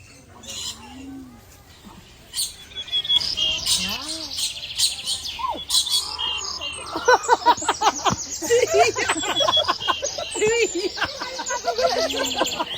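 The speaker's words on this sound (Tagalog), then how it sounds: "It's parrot." A parrot gives bursts of shrill chirps, squawks and tweeting calls, close and fairly loud, with faint voices in the background.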